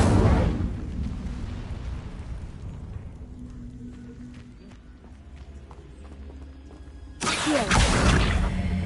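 Incendio fire spell cast in Hogwarts Legacy: a loud whooshing burst at the start fades into a low rumbling tail, then a second sudden roaring burst of flame erupts near the end.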